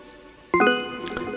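A bright electronic bell-like keyboard tone strikes once and rings out with layered sustained harmonics, followed by a few softer overlapping notes.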